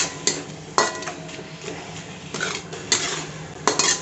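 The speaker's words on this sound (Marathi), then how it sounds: "कांदा आणि टोमॅटो याला तेल सुटेपर्यंत आपण परतून घेऊया" Chopped onion and tomato are stirred and sautéed in oil in a pan for a dhaba-style whole masoor dal, with a spatula scraping and clinking sharply against the metal several times over a faint background.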